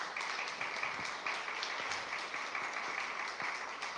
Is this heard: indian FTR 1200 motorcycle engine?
no